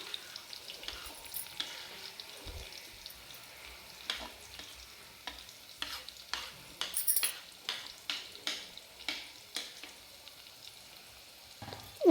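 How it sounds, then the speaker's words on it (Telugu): Onions and green chillies frying in oil for a chicken curry, stirred with a ladle: steady soft sizzle with repeated scraping strokes of the spoon against the pan, close and alone without talk. "ఉల్లిపాయలు, పచ్చిమిరపకాయలు మనం ఆయిల్ వేసుకున్నాం కదండి. కొంచెం మళ్ళీ ఆయిల్లో వేసుకున్న ముక్కలన్నీ బాగా గరిటతో ఒకసారి బాగా కలుపుకోవాలండి."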